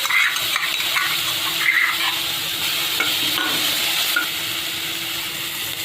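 Ground green chili paste fries in oil with cumin, asafoetida and coriander powder, a dense continuous sizzle under soft stirring scrapes and light clinks of a spoon on the pan, with no speech.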